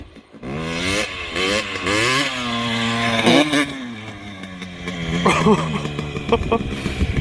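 Two-stroke motorcycle revving hard through a wheelie, its high buzzing engine note rising and falling in repeated surges, close and loud, with a rougher blip near the end.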